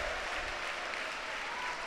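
A crowd at a Davis Cup doubles tennis match claps and cheers in a dense, sustained burst of applause, loud and even for the whole stretch with no break.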